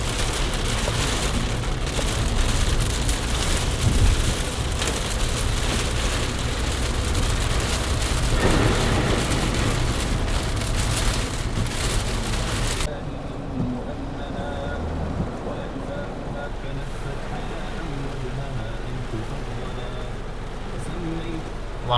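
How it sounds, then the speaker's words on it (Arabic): Heavy rain pours down in a steady dense hiss throughout, loud and close, with a faint low rumble beneath and no talking. "هاي الامطار مال اليوم"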